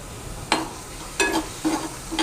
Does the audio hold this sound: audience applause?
no